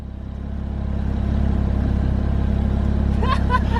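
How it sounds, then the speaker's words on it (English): Cars drifting in a parking lot: a steady, loud engine drone fills the whole stretch, and brief rising tire squeals break through near the end. "They're drifting in the other lot though"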